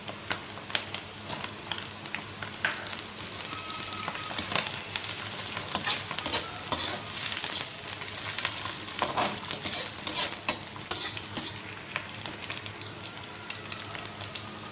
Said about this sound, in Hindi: अब इसमें मैं आलू भी डाल दूँगी।